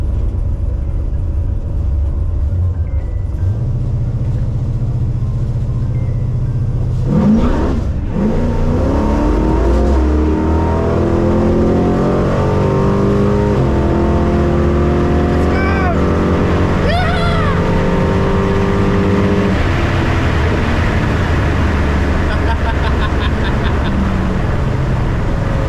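A Holden Kingswood drag car launches and accelerates down the dragstrip at Sydney Dragway, its engine rising through gear changes in a loud, continuous roar that climbs in pitch over a long run, with faint voices in the background.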